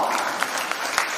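Audience applause at the HPSR Youngpreneurs 2023 event, as a student team is announced: a short burst of steady, moderately loud clapping from a seated crowd.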